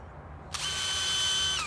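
Power drill boring a hole in a wall to hang a floating shelf, a sudden high whine kicking in after a half-second of quiet and holding steady, close and loud.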